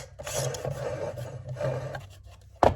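Reverse-threaded head of a STIHL brush cutter being unscrewed, with a rough rasping, rubbing scrape in uneven strokes that ends in a sharp louder clack.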